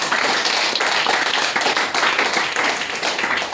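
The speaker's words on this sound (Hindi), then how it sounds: "मैं बहुत बहुत धन्यवाद करूंगा यश भारती जी का, जो आपके बीच में जोरदार ताली बजाएगा।" A large audience claps loudly and continuously at a network marketing leadership event, a dense, steady wash of handclaps with no pauses from start to finish.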